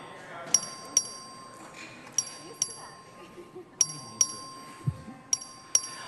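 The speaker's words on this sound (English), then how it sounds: "The clerk will ring the bell" A clerk rings the voting bell in a legislative chamber during a record vote: bright, metallic dings struck in repeated pairs and triplets, loud and near, over a steady background hum and soft room noise.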